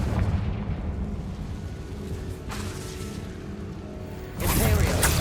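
Fire spell blasts crackle and boom during combat in the Hogwarts Legacy video game, a dense rumbling barrage that swells louder near the end with a bright burst.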